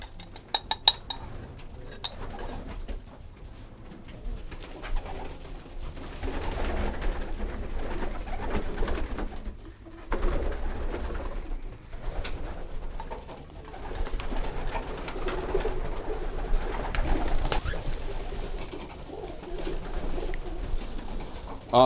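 Pigeons in a loft coo steadily and continuously close by, a soft layered burbling with occasional light clinks and rustles of movement in the background.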